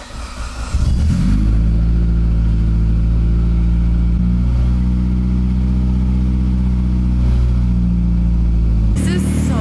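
An 800hp Mitsubishi Evo 10 engine catches and settles into a loud, steady close-up idle with a deep low rumble, brief shifts in tone as it runs, then a sudden change near the end.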